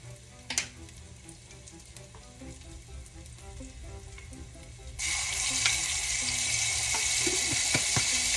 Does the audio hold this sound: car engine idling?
no